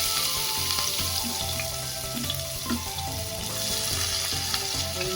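Hot oil sizzles steadily in a pan while tempering for semiya kichadi, with onion going in to fry; the frying hiss is close and continuous, broken by faint stirring clinks and no talk.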